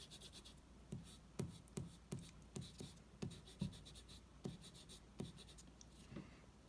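An eraser rubs back and forth over a pencil line on watercolour card, producing a steady series of about a dozen soft, close scrubbing strokes in a quiet room.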